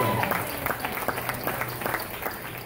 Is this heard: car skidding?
no